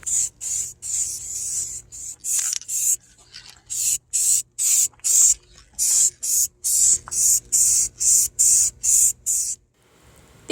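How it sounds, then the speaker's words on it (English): Black spray paint hissing from a spray can onto a lowrider's bodywork in a shop, a run of short, loud bursts with brief gaps between them, sounding close. "I'm just using a random black spray bomb we had in stock."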